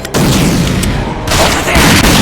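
Grenade blast in the video game Rage, a loud broadband boom that fills the clip with rumbling debris and gunfire-like crackle, dipping briefly midway before surging again.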